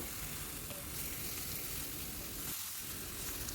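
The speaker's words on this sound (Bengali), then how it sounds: "মশলাটা যাতে চিকেনগুলোর গায়ে ভালো করে মিশে যায় ততক্ষণ পর্যন্ত একটু নেড়ে নেবো" Marinated chicken pieces frying in a spice masala for chicken curry, stirred in the pan, giving a steady dense sizzle with soft scraping from the stirring, close and continuous throughout.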